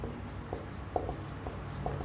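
A teacher writes out a letter to a school principal by hand, the pen scratching softly across paper in short faint strokes with scattered small taps, close and quiet against a steady low background hum.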